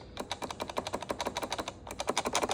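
The strum bar on a CRKD Gibson Les Paul guitar controller, black Encore Edition, is flicked in rapid, fairly even clicky bursts, close and crisp, with a brief pause partway through.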